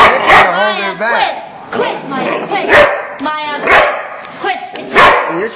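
Several dogs bark and yip in loud, overlapping bursts throughout, close by, with people talking over and between the barks.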